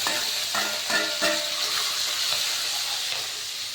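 Garlic and green chillies frying in hot oil, a steady close sizzle with faint stirring ticks, quiet and continuous without talking.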